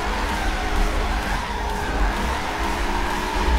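Tires of a Mercedes-AMG C63 twin turbo skid and squeal in a sustained drift in the racing game Forza 7, with a steady loud engine roar underneath and no talk.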